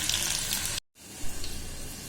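Green chillies, ginger and asafoetida dropped into hot oil for tempering crackle and sizzle in a dense hiss, broken by a brief silent cut, then resuming with a sharp burst of spluttering.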